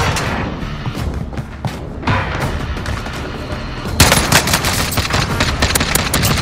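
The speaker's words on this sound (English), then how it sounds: "Taking fire!" Video game gunfire: dense, loud bursts of rapid automatic shots, thinner at first and then heavier and continuous in the last few seconds, with no talking.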